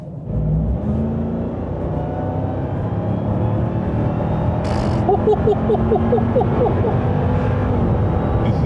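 A RAM 1500 TRX pickup accelerates hard, its loud engine note climbing steadily in pitch through the run, close and continuous with no voices.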